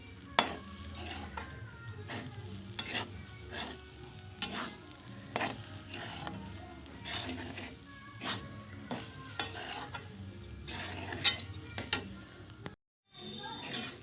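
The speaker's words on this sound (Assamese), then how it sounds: "এয়া মই ধুনীয়াকৈ ভাজি আছোঁ দেই।" Close, continuous stir-frying of coconut with cardamom: a spatula scrapes and taps rhythmically against a pan over a low sizzle, with occasional metallic clinks, then a brief silence near the end.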